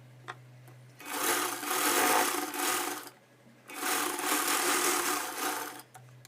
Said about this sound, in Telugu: సరేనండి, ఇప్పుడు నేను టాప్ స్టిచ్ వేసేస్తాను.